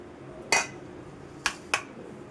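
While jackfruit curry is served, dishes and cutlery clink three times, one bright close clatter followed by two quicker, lighter clinks, over a quiet room.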